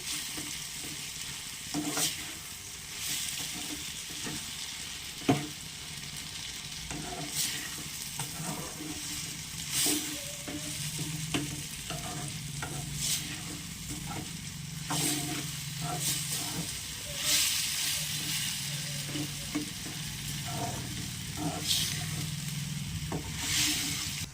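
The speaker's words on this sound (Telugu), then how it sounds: "దీనిలో అల్లం వెల్లుల్లిపాయ పేస్ట్ వేసుకుందాం ఫ్రెండ్స్. మొత్తం కలిసే వరకు ఒకసారి తిప్పుకుందాం." Tomato and ginger-garlic paste frying in a pan, a steady soft sizzle under repeated spoon strokes and occasional sharp clinks against the pan, close by, with faint background noise and no clear talking.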